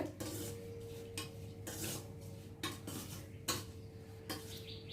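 Raw prawns are mixed by hand with turmeric and salt in a bowl, producing soft scraping and clinking strokes in an irregular rhythm, quiet and close, with no talking.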